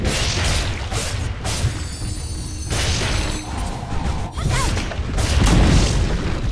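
A tower collapsing in Dota 2 delivers heavy booming crashes and smashing impacts layered over ongoing battle clatter and whooshes, loud and continuous.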